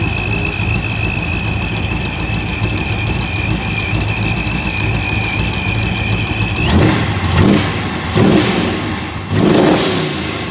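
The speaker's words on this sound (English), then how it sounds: "I find that pop sound here and there." A turbocharged Ram pickup truck engine with a blowing header gasket idles with a steady whine, then revs hard three times in quick surges, each swelling loud and falling back.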